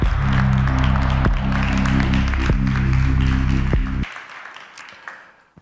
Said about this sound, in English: Some applause will accompany Bob.